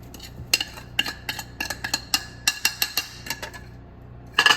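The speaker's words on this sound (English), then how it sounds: "Then we want to put our pork rinds in there." Crunchy pork rinds are dropped into a bowl of banana bread batter and folded in, producing a run of sharp, close clinks and taps of a utensil against the bowl at an uneven pace, fairly quiet, with no talking.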